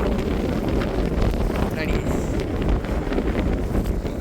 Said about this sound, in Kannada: ಫುಲ್ಲು ಗಾಳಿ ಬೀಸ್ತೈತೆ ಬೆಳಿಗ್ಗೆ.